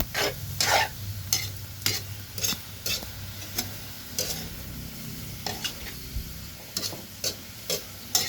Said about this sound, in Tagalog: so sa pagluluto ko lang ito mga idol no? so halo lang ng halo